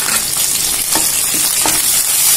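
Mustard seeds, cumin, curry leaves and green chillies hit hot oil in a kadai for a tempering, giving a loud, steady crackling sizzle with a few sharper pops as they are stirred, no voices.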